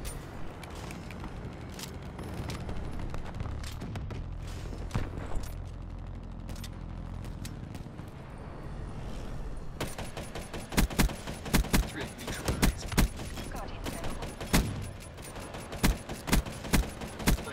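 Call of Duty gunfire: dense, continuous fusillade of automatic weapons with scattered sharp louder shots in the second half, under a low rumbling game soundscape.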